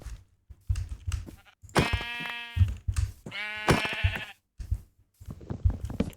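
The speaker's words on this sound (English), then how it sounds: "Well, let's get all these sheep." Sheep in Minecraft, modded with Broken Script, give two clear drawn-out bleats a couple of seconds apart, surrounded by clicking and thumping game sounds and footsteps.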